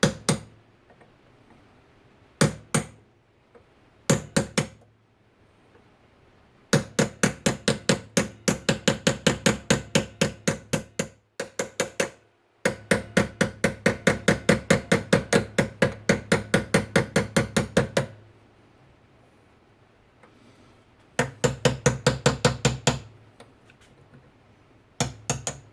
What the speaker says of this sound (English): Just hit this pin, it should come out of there.